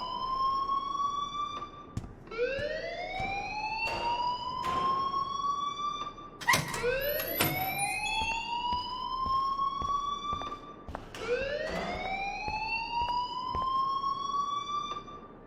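A loud electronic alarm in the video game Life is Strange wails in repeated rising sweeps, each climbing tone lasting a few seconds, with brief sharp clicks between cycles.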